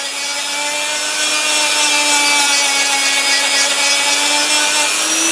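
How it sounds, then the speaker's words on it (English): A Dremel rotary tool rounds the edges of a wooden board-cut catapult, a loud, close, steady high-pitched whir with a gritty sanding texture, pitch creeping slightly as it moves along the wood. "All the way around the catapult, what you do now is you roll your Dremel like so."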